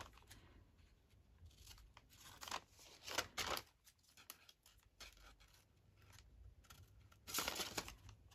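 Scissors trim a recycled paper envelope, giving faint, close crisp snips and papery crinkles in a few separate bursts, with quiet gaps between the cuts.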